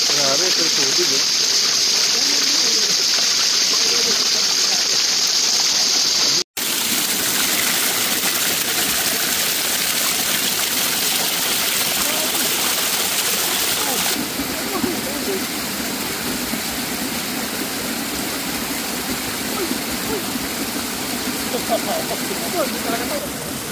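Rushing river water at Indang, Cavite, a loud, steady broadband roar of flowing current, close and continuous, briefly cut once and then carrying on with a voice speaking faintly over it.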